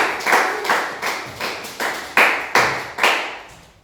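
A congregation at a church prayer gathering claps in acclaim: about eight loud, evenly spaced claps in a steady rhythm, close and clear, with no voices or cheering evident.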